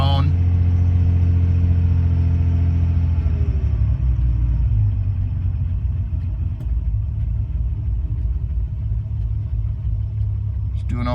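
A 1970 Fiat Dino engine idles after a cold start, a loud, steady low rumble that settles slightly lower partway through as it holds idle on its own.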